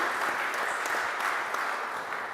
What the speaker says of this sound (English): qu'on peut applaudir très fort